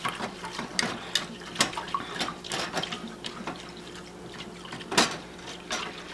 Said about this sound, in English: what I like to do is I just like to stir all the lumps out